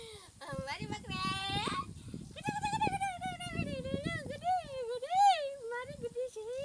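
A goat bleats repeatedly at close range, a series of loud, wavering cries following one another with short gaps, heard with no talking over them.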